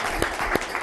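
A small Italian television studio audience gives a brief spatter of applause, a few loose claps in under a second.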